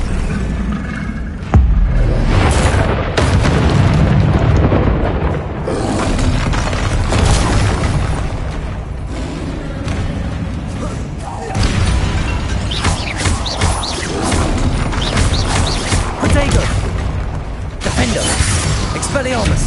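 Spell effects in the video game Hogwarts Legacy: loud bursts, shattering crashes and booming impacts in rapid succession over a rumbling layer, with shouted voices casting spells in between.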